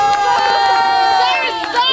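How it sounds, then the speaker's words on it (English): Backyard wrestling crowd at an amateur event, loud and close, a mass of mixed voices reacting with sustained shouting and jeering throughout, several higher children's voices standing out. "The crowd not liking it much."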